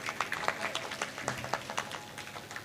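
A gathering at a devotional scripture recitation claps in sparse, uneven bursts, fairly faint and distant, with individual hand claps standing out against a low murmur.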